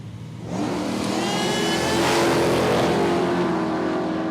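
Big block Chevy ute with small rear tyres launching at Palmyra Raceway drag strip, a sudden engine roar that rises and holds loud and steady as the vehicle accelerates away.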